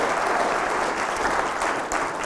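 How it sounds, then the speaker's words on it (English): Enthusiastic applause from the audience inside Columbine United Church during a Christmas program, a dense, steady clapping that tapers off slightly at the end. "give all of the volunteers at Columbine United Church a huge round of applause"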